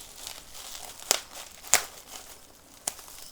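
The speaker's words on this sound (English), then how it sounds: "I just simply cut it straight down the middle here for the card." Scissors cut a bubble mailer straight down the middle in a quiet room, giving a soft rustle of plastic with three sharp crinkling snips spaced apart.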